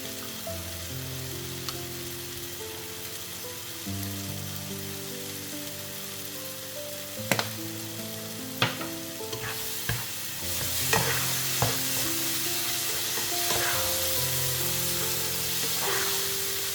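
Paprika frying in a hot pan is stirred quickly, giving a steady sizzle with a few sharp scraping clacks, then a brighter, louder hiss as liquid hits the pan.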